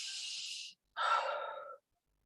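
Slow, smooth breaths during a yoga session, one long airy exhale followed after a short pause by a second breath with a slight rasp, close and soft with silence around them.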